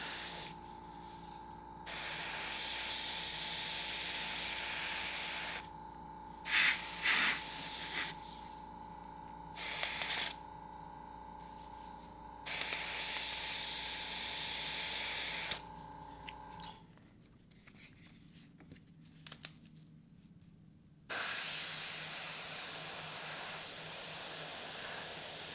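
An airbrush sprays paint through a dirt texture stencil over a zombie-themed background, sounding as loud hissing bursts of varying length with pauses between them and a quieter, softer stretch in the middle.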